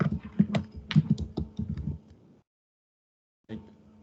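Someone types a paragraph on a computer keyboard, producing a quick run of close key clicks for about two seconds, then a pause, then a few more keystrokes, with no talking.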